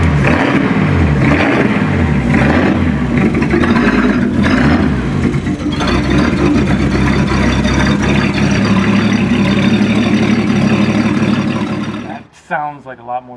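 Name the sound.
turbocharged straight-six car engine running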